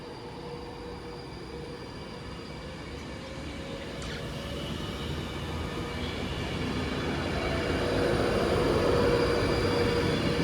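Train 39124 pulls away from Wilmslow station toward London Euston, a steady rail rumble with wheel noise that grows gradually louder over the whole stretch, with no talking.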